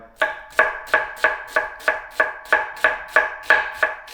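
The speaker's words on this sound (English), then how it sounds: "So slice really fine." A kitchen knife finely dicing an onion on a cutting board, about a dozen crisp, evenly spaced chops in a brisk steady rhythm, close and clear, with no speech.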